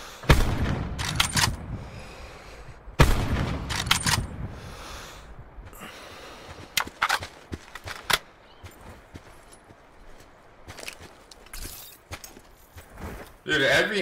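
Rapid gunfire from the Call of Duty Blackout battle royale on PS5, sharp bursts of shots crackling near and far in clusters, with a player talking over the action.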